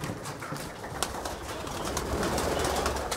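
A copper-coloured pigeon flutters and flaps its wings outdoors, giving quick soft wingbeats and faint cooing against steady background noise.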